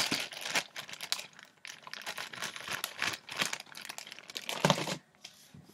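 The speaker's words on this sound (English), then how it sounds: "I'm gonna put it back in this plastic bag" A plastic bag crinkles and rustles in close, irregular bursts as a puzzle cube is slipped inside, with no talking.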